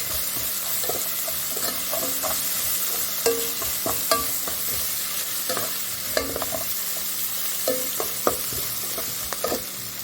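Ginger, green chilli and peanuts fry in a pan with a steady sizzle, broken by repeated scrapes and knocks of stirring that come close and fairly loud over about ten seconds.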